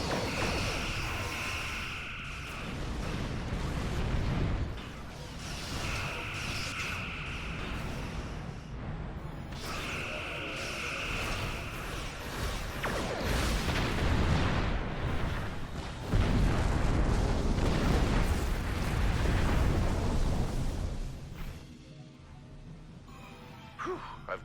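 Mycelium weapon fire in the Star Trek Online game erupts as a dense, loud run of rumbling blasts and booms, surging in waves for about twenty seconds before easing off, with no talking.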